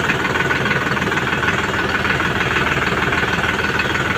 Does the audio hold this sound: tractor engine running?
yes